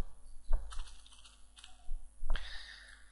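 A computer mouse double-clicking in ActionScript 3.0 software gives a few sharp, close clicks spaced apart, with light key-like tapping in between and no talking.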